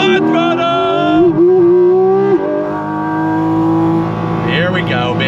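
A 2025 Porsche 718 Cayman GT4 RS's 4-liter flat-six engine revs hard and steady on throttle, pitch climbing then settling, loud and close, with someone talking over it.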